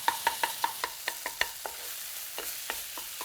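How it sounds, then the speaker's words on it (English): Tofu sautés in a pan while being broken up: a quick series of sharp rhythmic taps and scrapes from a utensil over a soft sizzle, close and distinct, slowing near the end, with no voices. "I'm gonna break it up and let that saute to get some more of that moisture out of it"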